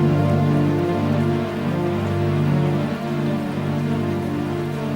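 Steady heavy rain lashes down on a surface, a dense continuous hiss and patter at constant loudness, with no voices.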